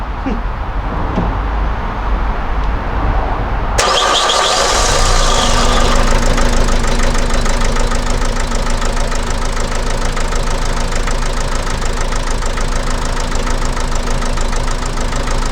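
A Vauxhall Vivaro 2.0 diesel van engine, with EGR and cooler deleted, cranks, catches and settles into a loud, steady idle with a rhythmic knocking chatter, heard close up.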